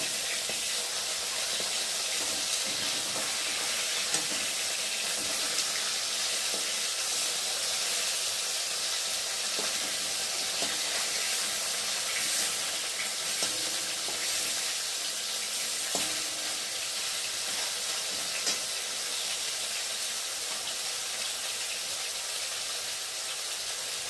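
Turmeric-coated fish fries in oil in a kadai, giving a continuous hissing sizzle that holds steady throughout, with faint occasional clicks and spatters and no talking.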